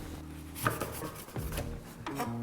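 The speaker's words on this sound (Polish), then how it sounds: "I kroję go w takie mniej więcej szerokości kciuka" A knife slices springy, cooled vegan aquafaba sponge cake into thumb-wide strips, giving a few soft, close scraping cuts and light taps against the board, fairly quiet with no talking.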